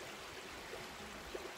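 A creek flows steadily close by, a soft continuous trickling wash with a few small gurgles and no voices.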